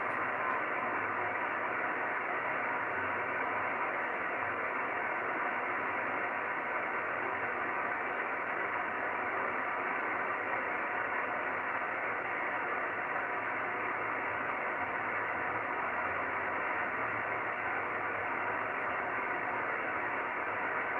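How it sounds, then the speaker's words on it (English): Satellite beacon passing overhead, received on an amateur radio in the 2-metre band, comes through as a steady wash of radio static and hiss with faint keyed Morse tones buried in the noise, continuous for the whole stretch with no talking. "So we can hear the beacon."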